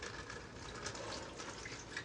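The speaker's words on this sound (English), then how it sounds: "I'm going to go ahead and pour the beef broth into my crock pot" Beef broth pours steadily into a crock pot as a continuous, even liquid splash lasting about two seconds, with no talking.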